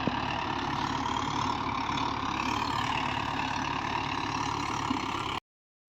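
A new tractor engine idling nearby, a steady, even mid-low rumble that holds for about five seconds before cutting off abruptly, with no voices.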